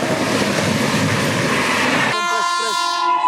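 The Dibrugarh Rajdhani roars past at speed to overtake the Magadh Express, a loud continuous rush of wheels and carriages, then a long train horn blares with a wavering, pitch-shifting tone at the end.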